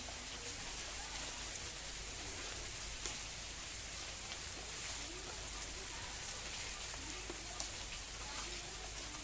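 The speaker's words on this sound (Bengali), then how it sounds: "অন্ধকার হয়ে আছে মেঘে, কিন্তু বৃষ্টিটা পড়ছে একদম ঝিরি ঝিরি" Soft, steady patter of light rain falls continuously, a gentle even hiss with occasional faint drips, quiet and distant.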